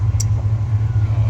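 A motorcycle engine runs steadily after a timing and fuel adjustment, giving a loud, continuous low rumble with an even hum and no change in pace.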